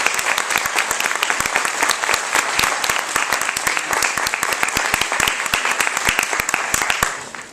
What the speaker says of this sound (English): please have a warm round of applause for our guest speaker, Mr. James Bartleman